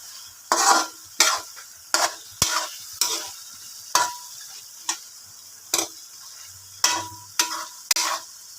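A slippery-bottomed wok rocks on the stove while cooking, giving a dozen sharp metallic clanks in a loose, irregular rhythm, roughly one every second, close and clear over quiet background.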